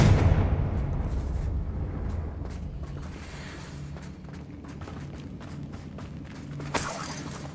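A fiery Confringo spell blast bursts from a wand in the Hogwarts Legacy video game, a loud booming explosion at the start that fades into a sustained rumbling crackle, with a second sharp impact near the end.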